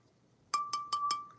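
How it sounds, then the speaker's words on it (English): Four crisp, ringing clinks from a glass Salty Pennies water bottle, evenly spaced and close, each with a bright sustained tone that lingers briefly. "my Salty Pennies water bottle."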